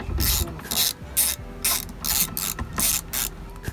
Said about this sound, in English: Alright, so we start off with this bolt. What size is that, Brian? That's a 17 millimeter